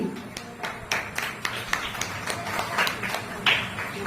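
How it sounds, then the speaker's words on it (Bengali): Audience clapping at a guest felicitation event for the Dhruv Foundation in Barasat, a steady patter of many hands at moderate distance with scattered sharper claps throughout. "জোরে করো তালি"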